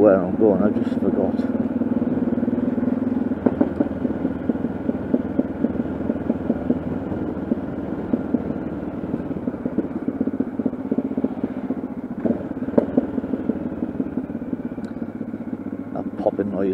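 Yamaha XT660Z Ténéré motorcycle ridden on the road, its engine giving a steady loud rumble throughout with small irregular pops and clatter. Wind buffeting and a rider talking are mixed in.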